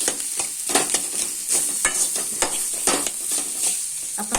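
Potatoes mashed with curry leaves in a pan using a spatula, giving repeated scraping and stirring strokes against the metal over a soft sizzle, close and steady.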